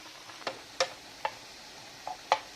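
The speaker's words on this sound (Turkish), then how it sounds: "bir çay kaşığı kekiğimi ekledim ve bu şekilde karıştırmaya devam ediyorum" Chicken seasoned with salt and thyme being stirred in a pan, heard as five or six sharp, separate scraping clicks of a utensil against the pan, close and isolated, with no speech.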